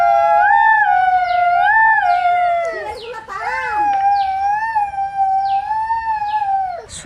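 Two boys imitate jackals with their voices, giving long, wavering, high howls close by that rise and fall and overlap one another.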